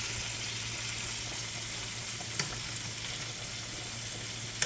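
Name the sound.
shrimp frying in butter in a pan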